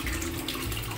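Water runs from taps into a turtle pond's undergravel filter chambers, a steady close splashing gush that fills the whole moment without pause.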